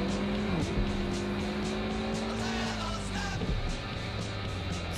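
A car in Watch Dogs Legion drives at speed, its engine droning steadily while tires squeal in long sliding arcs that bend in pitch, loud and continuous with no one speaking.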